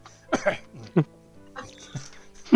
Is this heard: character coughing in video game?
yes